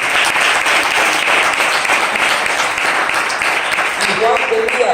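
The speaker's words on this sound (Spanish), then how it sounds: "Denle un aplauso al Señor." Church congregation applauding during a Spanish-language sermon, a steady dense wash of clapping held for the whole stretch with voices mixed underneath.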